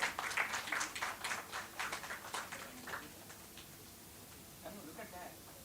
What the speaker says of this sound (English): Big an applause to him, please.